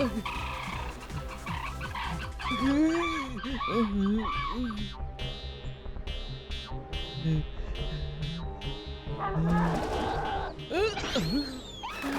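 A rooster crows in a couple of rising, wavering calls, loud and close, layered over busy background music.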